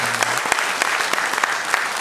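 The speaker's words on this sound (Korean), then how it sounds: "우리 박수로 한번 환영하도록 하겠습니다." A church congregation applauds a newcomer during a Sunday morning service: dense, steady clapping from many hands fills the room for the whole moment, with a brief low voice at the start.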